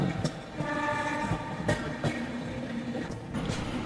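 A passenger train bound for Araku pulls away from Kottavalasa junction, wheels clattering in a steady rhythm under a continuous rumble, with sharp periodic clacks close by.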